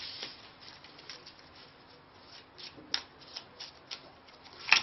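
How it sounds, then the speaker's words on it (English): A deck of game cards being shuffled by hand for a three-player deck-building game, soft close riffling and rubbing with a few sharper snaps, quiet and without talk. "each player shuffles their own deck and draws a hand"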